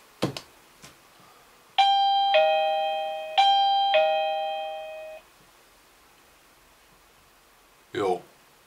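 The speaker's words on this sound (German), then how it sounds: "was passiert, wenn ich jetzt hier diese Klingel benutze" An XTU J7 Plus battery-powered video doorbell rings with a loud electronic two-tone chime that repeats twice and fades out, followed by a brief voice and a few clicks near the start and end.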